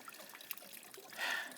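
Water trickles and pours as an Airstream trailer's 6-gallon hot water heater drains during winterizing, a steady close-up liquid stream that swells louder near the end.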